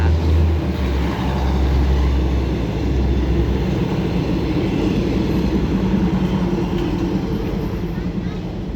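Passenger train at Hua Lamphong railway station in Bangkok, a steady low rumble and broad roar of rolling stock filling the station, constant and fairly loud throughout.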